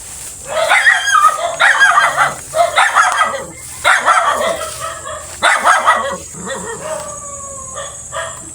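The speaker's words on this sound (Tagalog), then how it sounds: "Maraming aso dito." Several dogs bark in repeated bursts near a pig pen out in the forest, a fairly loud, ragged chorus of barks and yips that carries on for several seconds.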